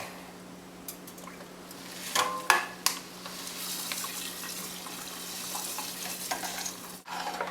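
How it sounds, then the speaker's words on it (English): Malted grain is stirred into water for brewing an IPA beer, a soft swishing and sloshing with a few sharper scrapes and clinks against the pot, steady and close, with no talk. "And I'm just stirring it to make sure we don't get any dough balls in there."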